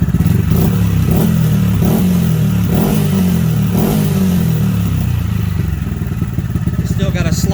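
A Honda Grom motorcycle engine idles steadily after an idle-speed and air-screw adjustment, a close, continuous low throb with mechanical clatter and a faint rise near the end.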